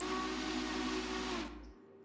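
In the Railroader video game, a steam locomotive whistle gives one long, steady, breathy blast and then cuts off, leaving a faint hiss. It sounds fairly quiet, as if heard in the background.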